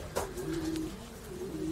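Racing pigeon cooing in a steady, close, low warbling drone that runs throughout, with a brief flutter or rustle near the start and no talk.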